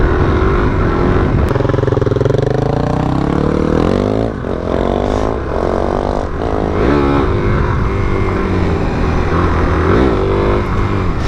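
A motorbike ridden close by, its engine droning loudly and steadily while the revs rise and fall over several seconds.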